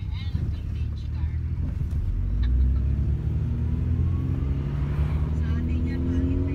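A rattly vintage car in Georgia drives past close by, its low engine rumble rising in pitch and loudness as it approaches, with people talking in the background.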